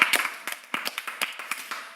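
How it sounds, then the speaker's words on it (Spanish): A few people clapping for God at the close of a Christian radio program, giving sparse, irregular sharp claps close by, at moderate volume with short gaps between them. "con un aplauso a Dios"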